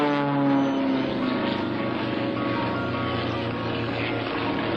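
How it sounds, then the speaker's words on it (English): Three aerobatic propeller planes, one of them a Sukhoi SU-29, fly simultaneous triple loops at an air force base open house airshow, giving a continuous, distant droning engine hum with no break. "Watch all three nice simultaneous triple loops in the sky."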